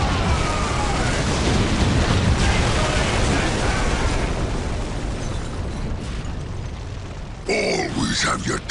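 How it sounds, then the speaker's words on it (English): Bomb blast in a Dawn of War Dark Crusade cinematic: a heavy, rumbling explosion roars and slowly decays over several seconds, with a sharp burst and grunting voices near the end. "Use the explosives."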